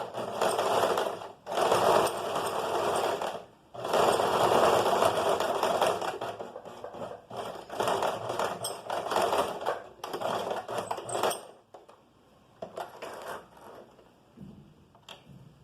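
A sewing machine stitches a flap pocket in several loud, close bursts separated by brief pauses, then gives way to quieter clicks and fabric handling.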